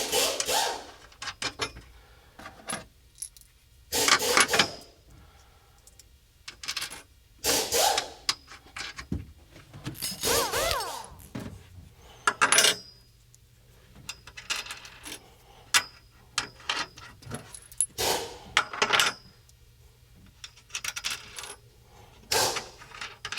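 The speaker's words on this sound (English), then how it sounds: "Next, we're going to locate our cups, washers, and nuts, and we're going to install them on the back side here." Small metal strut brace cups, washers and nuts handled during a rear strut brace install, giving scattered clinks, rattles and rubbing bursts of varying loudness with quiet gaps between them.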